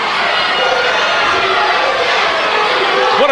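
A wrestling event crowd cheers, a loud, steady roar of many voices filling the arena without a break.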